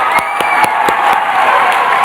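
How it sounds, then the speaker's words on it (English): A graduating class at a university commencement claps and cheers, a loud, dense crowd roar with steady applause and shouts running throughout, with several distinct sharp claps standing out. "All right, clap a little longer so I can put my robe back on."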